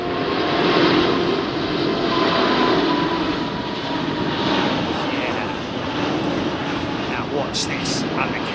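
A heavy British Airways Airbus A380 with Rolls-Royce Trent 900 engines at full takeoff thrust gives off a loud, sustained roar that eases slightly toward the end, with a voice speaking over it.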